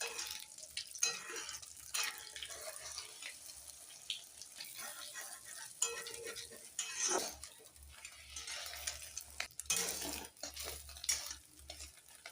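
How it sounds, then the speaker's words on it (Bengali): An egg frying in oil in a pan, stirred and flipped, giving a close crackling sizzle broken by scraping and clattering from the spatula, with no voices. "এবার ডিম দিয়ে দিচ্ছি, এই যে ডিমটা উল্টিয়ে দেবো।"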